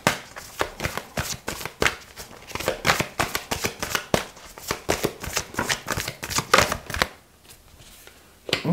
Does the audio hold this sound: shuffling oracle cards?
yes